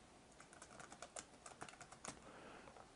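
Fingers type on a computer keyboard in quick, uneven bursts of close clicks and clacks, quiet and steady with no speech.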